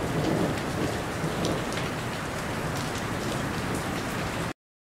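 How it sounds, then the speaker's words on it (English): Steady rain showers pour down in a dense, continuous hiss with a low rumble beneath, constant and fairly loud, with no voices, before cutting off abruptly. "I bring showers from the sky."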